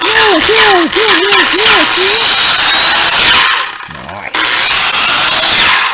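A Hitachi power drill runs loud and close with a steady high whine, briefly revving up and down in pitch early on, dipping for a moment before resuming at full speed.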